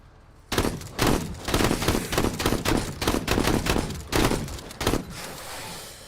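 Rapid shotgun blasts in a video game, a quick series of about a dozen loud, punchy bangs close together over roughly four seconds, each with a short rumbling tail, then fading.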